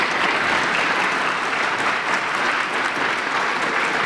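An audience at a formal talk on United States–Vietnam relations gives the ambassador sustained, dense applause, steady and fairly loud, with no voices standing out.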